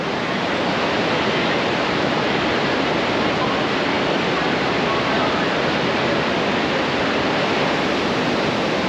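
A waterfall pours in a steady, dense roar that fills the whole stretch, loud and continuous with no breaks or voices.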